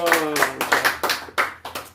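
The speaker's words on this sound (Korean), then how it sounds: "하나님께 영광의 박수로 예배를 마치도록 하겠습니다." A congregation claps to close a worship service, giving a series of loud, close, rhythmic bursts of applause mixed with voices speaking or calling out.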